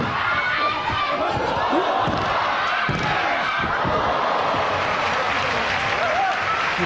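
A dense crowd at a 1997 All Japan pro wrestling show claps and cheers loudly and continuously, with thuds from the ring mixed in and an announcer's voice partly audible under the noise.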